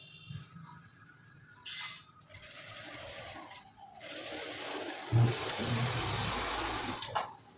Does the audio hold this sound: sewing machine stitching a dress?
yes